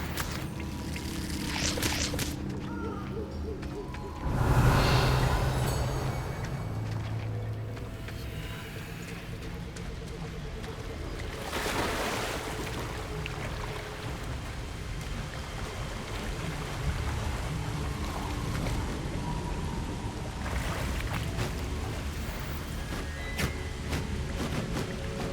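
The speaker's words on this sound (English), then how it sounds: "The waterfall." Waterfall in the video game Hogwarts Legacy: continuous rushing, pouring water that swells and fades as the view moves, with music underneath and brief voices speaking.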